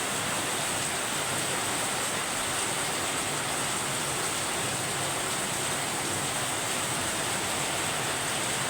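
Heavy overnight rain pouring steadily, a dense, unbroken hiss that stays at one loud level throughout with no voices or distinct drops standing out.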